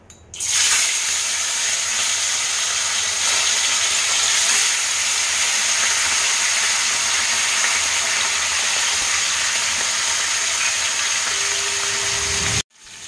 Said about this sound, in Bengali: তেল গরম হয়ে গেছে, এবার আমি একে একে মাছগুলোকে এপিট ওপিট করে ভেজে নেব